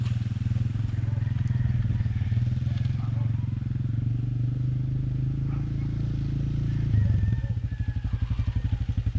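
A motorcycle engine idles and chugs steadily up close with a low, throbbing rumble, briefly revving before settling back to a pulsing idle, with voices talking nearby.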